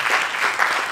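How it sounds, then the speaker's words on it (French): An audience at a tourism and culture panel breaks into steady, dense applause, loud and close, with many hands clapping continuously and no break. "Donc cela s'applaudit."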